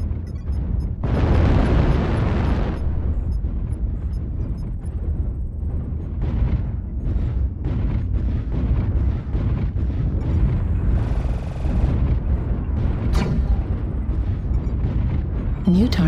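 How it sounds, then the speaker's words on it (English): Heavy airstrike explosions in MechWarrior Online: a loud, rumbling blast swells early and lasts about two seconds, followed by a dense run of booms, crackles and impacts throughout, with some brief synthetic game tones. "Airstrike online."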